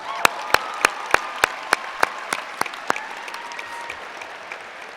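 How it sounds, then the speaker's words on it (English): Graduation-ceremony audience at a high school gives a round of applause, starting as sparse distinct claps in a slow rhythm that gradually blend into a softer, thinning wash of clapping from a moderately distant crowd. "we'll give them a round of applause over there."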